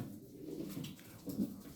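Pigeons coo softly in a loft of young, never-flown blue birds, low throaty calls rising briefly near the end over a quiet background.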